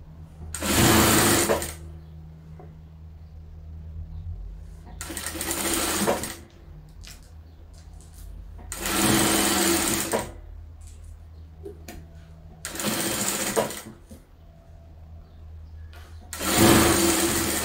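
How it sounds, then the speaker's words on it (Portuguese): A sewing machine stitches a double-sided patchwork bag in five loud, close bursts of whirring, each about a second long, separated by quieter pauses with small handling sounds. "E vamos costurar."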